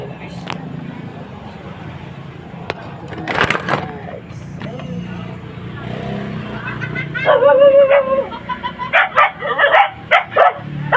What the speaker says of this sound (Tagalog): maingay ang aso